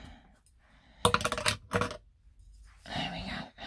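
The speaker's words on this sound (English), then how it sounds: "my trusted nail scissors. Just chip the end of that off." Small nail scissors snipping wool felt while needle felting a lion's nose, several sharp close clicks and snips in quick bursts, with a rustle of handling between them.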